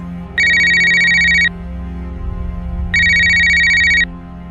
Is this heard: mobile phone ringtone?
yes